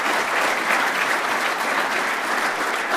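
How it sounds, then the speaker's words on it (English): An audience at a tech innovation conference claps warmly, a dense and even wash of applause that carries at full strength throughout. "Can we have a warm applause for"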